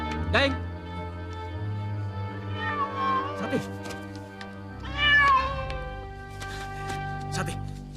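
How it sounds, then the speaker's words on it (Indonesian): A cat meows several times amid a spoken drama scene, with people talking over and between the calls. "Dasar kucing kurang ajar."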